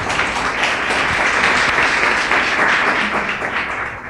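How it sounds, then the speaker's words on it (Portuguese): A church congregation claps loudly and steadily in praise, a thick continuous wash of many hands close by that holds at full strength and eases slightly at the end. "Louve a Ele com suas palmas, bem forte."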